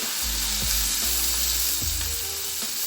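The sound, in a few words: onions frying in oil for pav bhaji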